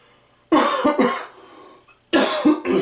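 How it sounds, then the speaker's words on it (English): Loud harsh coughing right at the mic: a fit of two or three hacking coughs, a pause, then another burst of coughs. "I don't mean to keep coughing like this."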